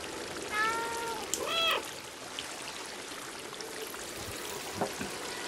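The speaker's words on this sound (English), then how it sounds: "I'm about to hit him with a deep meow" Cat meowing in the video game Stray, two distinct meows close together early on over a faint trickling water background, then quieter ambient sound.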